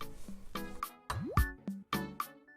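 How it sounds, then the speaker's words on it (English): Half and half pouring into a butter and flour roux in a pan, with a run of soft plops and drips and liquid splashes that come and go in short bursts, close by and with no talk. "we're gonna pour in most of our half and half"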